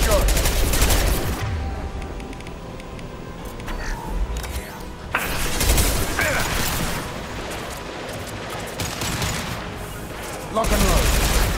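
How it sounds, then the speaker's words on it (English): Impact shot gunfire in the Mass Effect 2 Legendary Edition video game: dense bursts of loud weapon fire and mechanical clatter, with heavier volleys at the start and end and voices talking in between. "Firing an impact shot."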